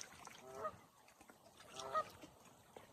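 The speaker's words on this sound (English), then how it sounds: "Except for those birds over there. I think it's Canada goose." Canada geese honk from a distance across water near tiny islands on a quiet night, with two separate bursts of calls and soft ambient noise between them.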